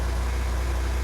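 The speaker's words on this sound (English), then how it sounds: "the car can be kind of loud" Steady low engine idle of a car in the Roblox game Twisted, a continuous rumbling hum at constant level throughout, with no talk over it.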